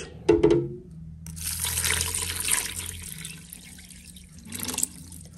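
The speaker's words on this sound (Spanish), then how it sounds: "Le vamos a agregar agua hasta cubrir." Water pours into a pressure cooker holding suadero, bay leaf, salt and oregano, starting with a brief clunk and then a steady, close, rushing flow that swells again near the end.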